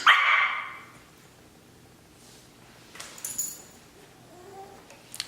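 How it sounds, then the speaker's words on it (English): A dog gives one loud, sharp bark close by at the start, followed by quieter faint stirrings and a soft whimpering yip near the end, indoors with no talk. "She wants to bark in my videos and interrupt"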